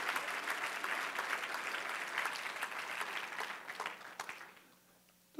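A church congregation claps in a brief burst of applause that stays fairly even, then thins out and fades to near quiet at the end.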